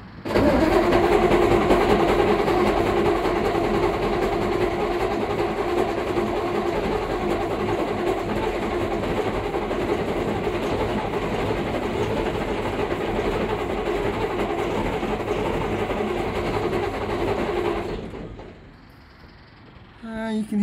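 Diesel engine of a SKOT R2M OT-64 armoured vehicle, running with a loud, steady, rough rumble heard close up for about eighteen seconds before it cuts out abruptly, with no speech over it.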